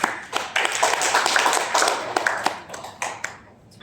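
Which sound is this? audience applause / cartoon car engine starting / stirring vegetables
audience applause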